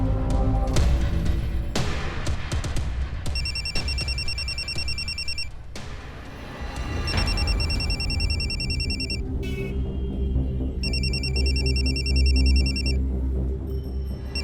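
A telephone rings in repeated electronic bursts with short pauses between them, set against a loud, busy background.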